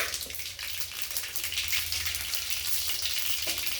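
Mustard and cumin seeds sizzle in hot oil, a dense continuous hiss with fine crackling, close and steady with no talking.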